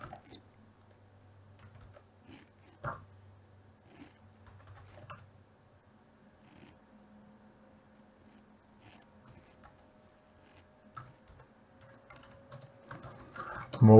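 Sparse keyboard typing while code is written for a motor controller, with scattered isolated key taps and short bursts over quiet, near and fairly soft, with faint background noise and a louder clatter at the very end.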